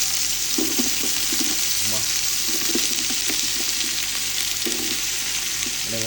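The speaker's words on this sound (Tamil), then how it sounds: "இப்போ வெங்காயத்தை போட்டுடலாமா? வெங்காயத்தை போடுங்க." Chopped onions for a two-kilo batch of Ambur mutton dum biryani sizzle in a pot of hot oil, giving a steady, dense frying hiss with a faint voice murmuring in the background.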